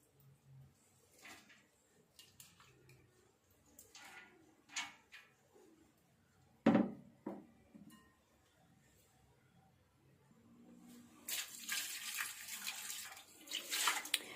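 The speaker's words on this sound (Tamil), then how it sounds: "கோதுமையை போட்டுட்டு அதுக்கப்புறமா நீங்கள் கொஞ்சமாக தண்ணீர் ஊற்றிட்டு" Water poured from a vessel onto Tirunelveli samba wheat for halwa, heard as a soft splashing trickle near the end, after scattered clinks and a sharp knock of kitchen utensils in a quiet room.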